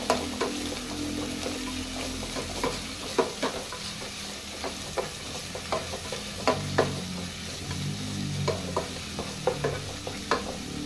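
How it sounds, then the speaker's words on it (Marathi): Three chopped medium onions fry in a pan with a steady soft sizzle, broken by repeated scraping and clinking stirs at irregular intervals, heard up close. "बरें तेका फ्राय करून घेवया"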